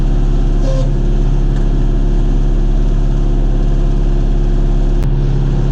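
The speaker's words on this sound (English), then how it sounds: "Finally took the old tractor out of 4-wheel drive." A John Deere 5101 tractor engine drones loud and constant while climbing a hill out of a swamp, a low heavy pulsing hum with a brief click partway through.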